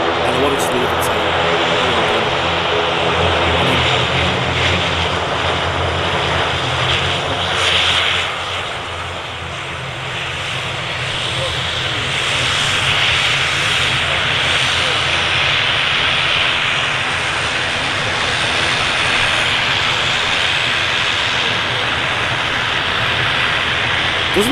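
Aircraft engine noise at Manchester Airport, a steady loud drone with a propeller-like hum that holds for the full stretch, dipping slightly midway before swelling again, with no talk over it.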